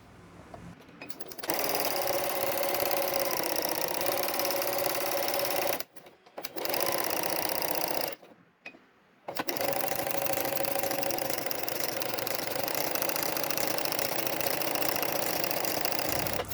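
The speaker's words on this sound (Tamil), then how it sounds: "உதாரணத்துக்கு இப்போ ஒரு ஃப்ளவர் தைச்சி காமிக்கிறேன்." A tabletop sewing machine with a flower stitch attachment runs at a steady, close mechanical whir, stopping briefly twice before starting again, with no talking.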